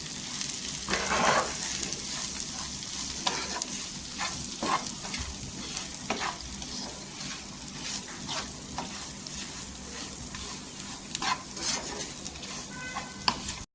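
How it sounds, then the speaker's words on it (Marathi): Stuffed masala okra (bharli bhendi) sautéed in hot oil, dhaba style: a steady close crackling sizzle throughout, punctuated by repeated scraping stirs of a spoon against the pan, with no talk. "आता काय करायचं, 1 चम्मच घ्यायचा आणि छान अशी तेलावर परतून घ्यायची"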